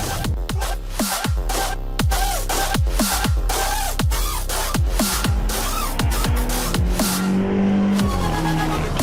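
BMW M8, 460 kW, driven hard on a race track: loud engine howl with repeated sharp gear-shift drops and revving surges, continuous up close with no talk.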